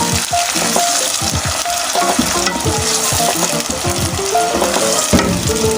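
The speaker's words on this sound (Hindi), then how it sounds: "इस स्टेज पे मैंने इसके अंदर जो टमाटर कटिंग किए थे वो मैं ऐड कर दूँगी।" Chopped tomatoes hit browning onions in a hot frying pan for a rajma lobia curry, setting off a loud, steady sizzle with repeated scraping stir strokes throughout; no one speaks.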